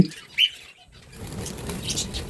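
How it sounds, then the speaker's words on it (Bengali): Budgerigars at a bird farm flap their wings inside a cage in short, close bursts, followed by a soft rustling patter and faint chirps. "একটা করে পাখি খাঁচার ভিতর ভরে রাখছি"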